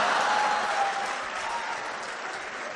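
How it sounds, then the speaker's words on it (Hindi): An audience at a Hindi kavi sammelan claps steadily for a satirical poem, with dense, even applause filling the whole moment and no voice on top. "और व्यंग पर तालियां तो अब आपकी अब उठेंगी।"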